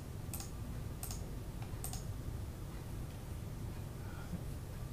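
Computer mouse clicks on report card boxes, heard as a few sharp, faint clicks spaced about a second apart over a steady low background hum.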